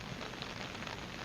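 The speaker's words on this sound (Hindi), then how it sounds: "काफी तेज बारिश इस वक्त हो रही है" Heavy monsoon rain pouring down during a live weather report from Himachal Pradesh, a dense, steady hiss of downpour filling the scene with no voices.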